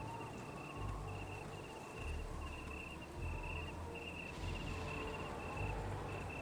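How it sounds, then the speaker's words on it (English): Crickets chirping in the Baldur's Gate video game, a steady high pulsing trill repeating evenly over a low rumbling ambient bed, with no talk. "Cricket noises intensify."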